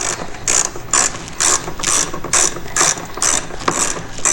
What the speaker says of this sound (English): I'm going to grab this Torx and just get these out of the way